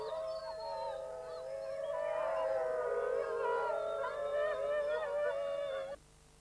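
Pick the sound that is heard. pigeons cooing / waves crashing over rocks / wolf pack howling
wolf pack howling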